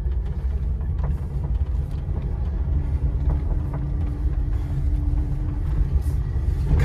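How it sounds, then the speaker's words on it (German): An electric Trabant 600 accelerating in second gear, heard from inside as a steady low rumble with faint whine, no engine note, continuous and fairly loud throughout. "So, ich habe jetzt den zweiten Gang eingelegt und gebe einfach Gas."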